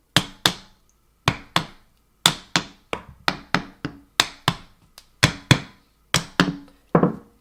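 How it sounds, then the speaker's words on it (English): The back of a screwdriver taps firmly on the bearings of a commercial electric floor fan, making sharp, close, hard knocks in quick pairs and clusters, repeated about twenty times with no voices. "Take the back of the screwdriver and then give them firm taps from various angles."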